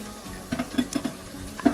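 A spoon stirs lagman sauce in a pan, giving several soft, irregular scraping and clinking strokes over a faint low sizzle.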